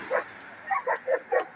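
Several sharp dog barks ring out close by in an uneven series of about five yaps, nothing else sounding between them.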